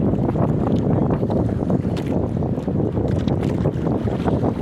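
Rough Pacific Ocean water on a fishing trip at sea, heard as a steady, loud broadband roar of wind and churning water against the boat, continuous and unbroken throughout.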